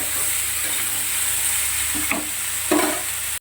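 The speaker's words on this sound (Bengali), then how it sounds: "একদম লাল লাল করে ভেজে নেব।" Food frying in a covered pan until reddish, with a continuous close sizzle and a couple of brief scraping stirs near the end, no voices.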